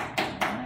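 Two brief hand claps or taps at a board meeting, short and fairly close, with no talk over them.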